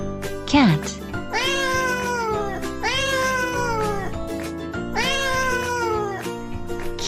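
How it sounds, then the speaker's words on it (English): Cat meowing three times in long drawn-out mews at a slow, even pace, close and clear over soft background music. "Cat."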